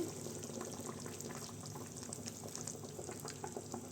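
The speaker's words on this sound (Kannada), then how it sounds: "ಚೆನ್ನಾಗಿ ಕುದೀಲಿ ಹೈ ಫ್ಲೇಮ್ ಮಾಡ್ಕೋಬೇಡಿ ಸೊ ಕುದೀತಾ ಇದೆ" Egg curry bubbling steadily in a pot on a moderate flame: a continuous, fairly quiet simmer of small pops and gurgles with no talking.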